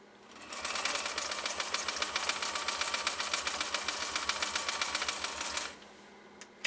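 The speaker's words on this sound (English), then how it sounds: "we'll focus on laying down a straight stitch, and then we'll lay down a zigzag next to it" A 1958 Czech LADA T-132 sewing machine runs a straight stitch, its rapid, even mechanical clatter starting after a brief pause, holding steady for about five seconds, then stopping with a final click.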